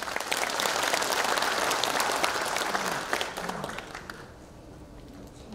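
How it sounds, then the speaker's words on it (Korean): An audience breaks into sustained applause at a ceremony marking the 72nd anniversary of the Korean disabled veterans' association's Yongin branch, loud and dense at first, then fading to scattered claps. "큰 박수 부탁드립니다."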